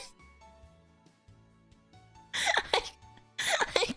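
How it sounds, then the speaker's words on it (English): Two short bursts of harsh, breathy coughing, loud and close, over a faint steady low hum with quiet tonal sounds before them. "I coughed. It made me cough before I'd even made a noise."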